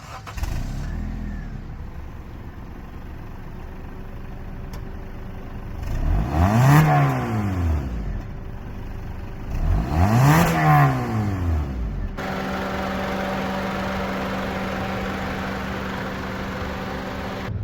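A high-mileage 8th-generation Honda Civic with a 1.8-liter engine idles evenly, then is revved twice in quick, rising swells that fall back, before settling into a smooth, steady idle close by.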